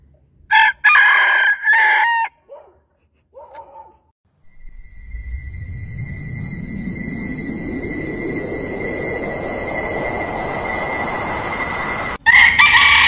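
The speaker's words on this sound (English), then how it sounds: "Here's your chicken." A rooster crows and clucks in several short, loud calls at the start. A rising mechanical whine with a steady tone follows for several seconds, then a brief loud burst comes at the end.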